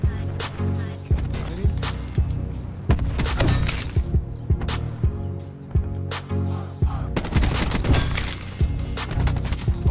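Rapid bursts of automatic gunfire from a video game shooter with an ABR rifle class, loud dense volleys with short gaps and thudding impacts, continuing for the full stretch without speech.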